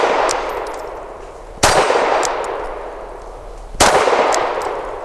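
Two loud, ringing metallic clangs from pistol rounds striking a swinging steel target at a shooting range, spaced about two seconds apart, each tone slowly decaying, with no voices.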